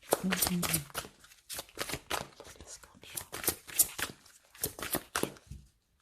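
A deck of tarot cards is cut and handled in a run of crisp, rapid papery bursts that repeat with short pauses, close and fairly loud, with soft whisper-like sounds in between.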